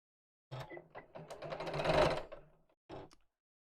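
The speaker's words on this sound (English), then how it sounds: "let's match up the seam at the side and sew it." A sewing machine stitches a side seam in two runs: a whirring, chattering burst of about two seconds that builds in speed, a short pause, then a brief final spurt, close and clear.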